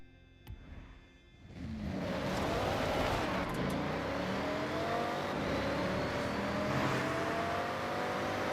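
Cars rev up and roar off the line in a Forza Horizon video game drag race. Quiet idling gives way to a sustained, loud engine drone that climbs through the gears and holds steady to the end, with no voices.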